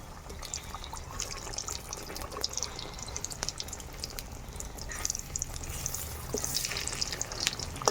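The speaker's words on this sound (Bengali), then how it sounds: "মশলাগুলোকে উল্টে পাল্টে ভেজে নেব" Oil sizzles and crackles steadily throughout, with bright popping bursts and faint stirring noises, close up and continuous.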